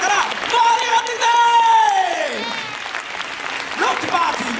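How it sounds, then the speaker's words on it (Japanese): A theme park show audience at Universal Studios Japan claps and cheers on cue, the crowd noise running under a loud, drawn-out vocal shout from a performer that dips and then rises again. "上で拍手"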